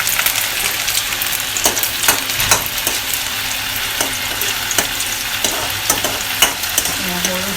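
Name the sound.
frying lai xaak leafy greens with garlic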